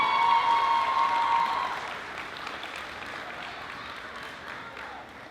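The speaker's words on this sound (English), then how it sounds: "Seniors, applaud your parents for all their hard work." Graduating high school seniors at a 2016 Camden High School commencement applaud their parents, a broad wash of many hands clapping that fills the space loudly at first, then gradually thins and fades.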